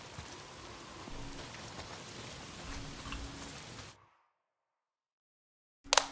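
Steady rain pours in the Days Gone video game, a dense broadband hiss of drops on surfaces that runs for about four seconds, then cuts to silence before a brief loud burst at the end.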